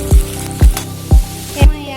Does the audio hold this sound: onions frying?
yes